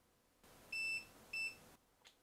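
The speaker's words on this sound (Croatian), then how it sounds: "čuju se 2 bipa" Two short, clear electronic beeps from a Parkside PAAS 20-Li B1 cordless battery pruning shears as the tool switches off, evenly spaced against a quiet background.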